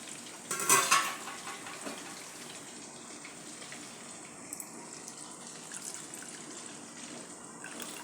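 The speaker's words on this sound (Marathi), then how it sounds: "मी आणखीन अर्धा कप दूध घालत आहे" Milk poured into a bowl for dry fruit ice cream: a soft liquid splash and trickle, loudest near the start, followed by faint kitchen clatter, with no talking.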